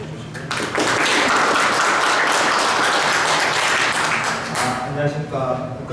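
An audience at a shooting coaching seminar applauds to welcome a national team coach to the stage, a dense, loud wash of clapping that swells after a brief lead-in and holds steady with some voices mixed in.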